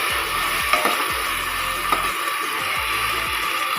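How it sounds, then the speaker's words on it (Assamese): Spice paste sizzles in hot oil with fried onions for a jackfruit curry, a steady close frying hiss broken by scrapes and knocks as it is stirred. "পিঁয়াজখিনি মোৰ ভাজা হৈ গৈছে এতিয়া মই পেষ্ট বনাই থোৱা মছলাখিনি দি দিম"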